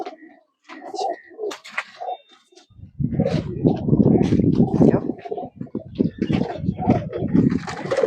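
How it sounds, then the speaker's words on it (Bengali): Soft pigeon coos sound nearby, then a person talks over the continuing cooing and rustling. "এখানে দেখুন কতগুলো পায়রা রয়েছে।"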